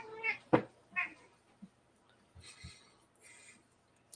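A cat meows several times in short, clear calls close to the microphone, with quiet pauses and a few soft knocks between them.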